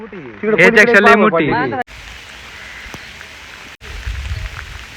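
A voice speaks briefly, then steady heavy rain hisses on its own during flooding, a continuous dense wash of falling water with a low rumble underneath.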